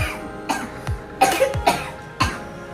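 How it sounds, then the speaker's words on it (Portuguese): Several sharp coughs from a person in a choking first-aid demonstration, about five short bursts spaced unevenly, close and clear with no talking. "Então tosse pra mim, rapidinho."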